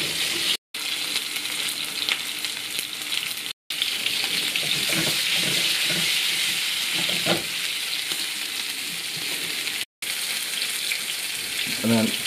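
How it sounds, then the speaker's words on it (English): Lumps of oxtail fry in fairly hot oil in a frying pan, a loud continuous sizzle with crackles and stirring scrapes, broken by a few short cuts to silence, with no talking. "melt some oil or fat or the lubricant of your choice in a frying pan. Get it fairly hot and throw in lumps of oxtail"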